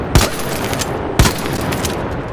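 Two sharp, loud Anvil Splitter shots about a second apart hit a heavy shield in a video game, each a hard broadband blast over a steady background hum.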